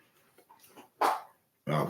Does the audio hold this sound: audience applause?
no